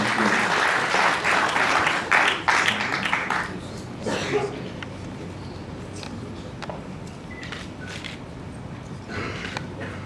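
An audience applauds after a question at a public event with the vice-minister of education in the DRC, dense clapping for about three and a half seconds that thins into scattered claps and fades out.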